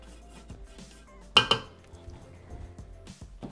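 A spatula scrapes pistachio biscuit mixture down inside a Thermomix mixing bowl, quiet rubbing and scraping with two sharp metallic clinks in the middle, close and without talk.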